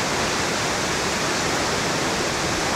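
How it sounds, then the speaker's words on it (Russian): Jungle waterfall at Klong Plu on Ko Chang, Thailand, roars as a steady, dense broadband rush of falling water, loud and close without a break, with no voices over it. "Водопад за моей спиной."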